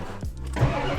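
A truck engine with a newly fitted starter cranks briefly and catches, its rough mid-pitched rumble steady after the start, close and fairly loud.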